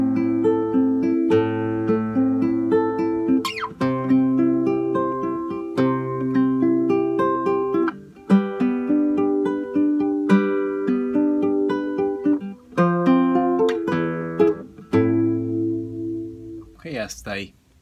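Guitar playing the intro arpeggio of a song slowly, picked notes ringing and overlapping in a gentle, unhurried pattern, close and clear with no talk over it.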